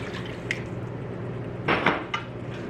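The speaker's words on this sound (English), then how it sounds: "Now I will add 1 cup of warm water." Cup of warm water poured into a pan of restaurant-style chicken tikka masala: a brief splashing pour with light pan and utensil clatter over steady kitchen background, no talking.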